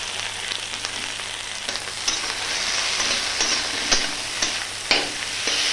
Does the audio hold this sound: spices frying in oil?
yes